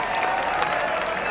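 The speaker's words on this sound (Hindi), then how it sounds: "कृपया जोरदार तालियों से स्वागत कीजिए।" Dense, loud applause from an audience fills a Diwali celebration at a defence academy, a steady continuous roar of clapping with faint cheering and no clear speech over it.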